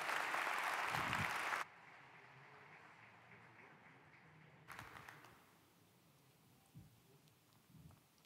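Applause from an audience at the 2019 TÜBA-TÜBİTAK award ceremony, a loud burst of clapping for about a second and a half that stops abruptly, leaving quiet room tone with a few faint knocks.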